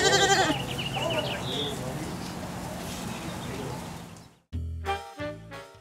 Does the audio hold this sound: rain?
no